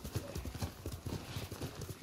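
Rapid clip-clop of horse hooves in the video game Ghost of Tsushima, a steady galloping rhythm of close thuds over a soft background hiss.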